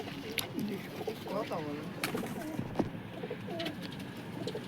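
Pigeons in a loft coo in soft, repeated rolling calls, with several overlapping phrases and a few sharp clicks, fairly quiet and close.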